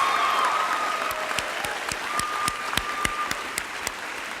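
Audience applause at a school district convocation, steady clapping from a large crowd with sharp individual claps standing out, filling the whole stretch with no talk over it.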